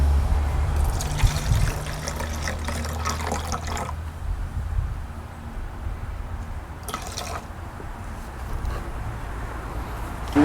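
N-Ext Air8 liquid aeration product, about six ounces, is poured into a measuring cup, giving a close trickling and splashing for several seconds that tapers into faint drips and quiet gaps.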